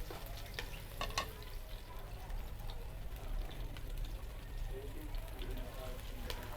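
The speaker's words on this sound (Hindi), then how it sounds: "लाइट सा मैं अपने अनियन को सौते करूँगी" Onions sauté lightly in a pan for chicken macaroni, giving a quiet, continuous sizzle with occasional soft stirring scrapes.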